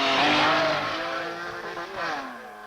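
A Porsche rally car races along a stage of the 1968 Finland rally, its engine note loud and close, sweeping in pitch as it accelerates and passes, heard alone without talk.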